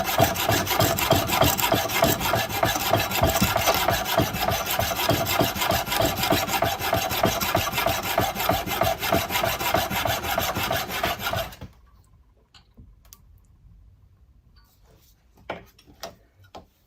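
Metal castings are trimmed with a steady, rasping cut that runs continuously and close for about twelve seconds, then stops abruptly, leaving only a few faint knocks and handling clicks.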